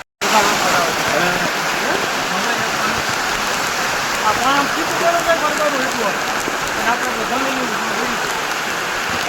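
Heavy rain pours steadily on Girnar mountain, a dense, unbroken hiss of drops on surfaces, with voices talking or singing over it throughout.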